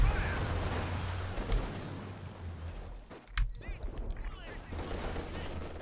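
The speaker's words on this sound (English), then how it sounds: "Artillery barrage on the field gun again." Artillery barrage hitting a field gun in Company of Heroes 2, heard as dense, continuous battlefield gunfire with a sharp heavy impact in the middle, all loud and close throughout.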